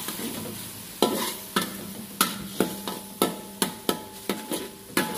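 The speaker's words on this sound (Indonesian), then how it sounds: "kita aduk-aduk." A utensil stirs a thickening sauce for Korean buldak chicken in a frying pan over low heat. Repeated scraping knocks land at an irregular, quickening rhythm over a soft, constant sizzle.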